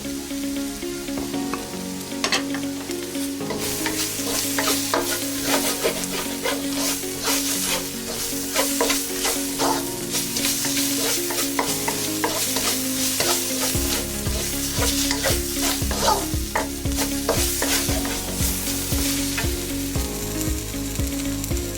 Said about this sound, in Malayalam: ഇനി ഇതിലേക്ക് കുരുമുളക് പൊടി ചേർത്ത് ഇളക്കുക